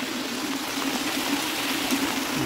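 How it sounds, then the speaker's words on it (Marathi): Heavy rain and running water flow at a village school in Konkan during an Independence Day flag hoisting, a steady broadband rush of streaming water heard close and continuous without talk. "पाऊस बघा किती आहे, पाणी बघा."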